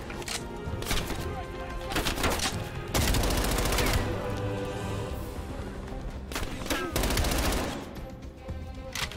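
Bursts of automatic gunfire in Call of Duty Black Ops Cold War, close and loud, coming in several rapid volleys with brief gaps between them and a sustained stretch in the middle.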